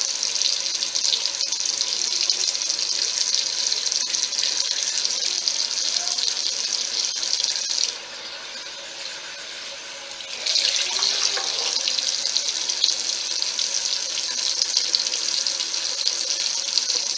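A faucet streams warm water continuously into a bathroom sink for a face rinse. The steady rush softens for a few seconds midway as the flow is interrupted, then returns full and close.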